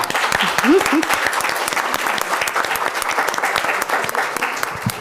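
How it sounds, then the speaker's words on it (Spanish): An audience at an academic lecture event applauds on request, a loud, dense, continuous round of clapping from a full hall, with a short cheer near the start. "sí, por favor, un aplauso"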